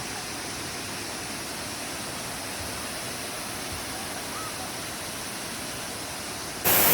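Steady, broadband rush of flowing water at Tago Falls in Porac, Pampanga, a constant close roar with no talk, ending in a sudden louder burst.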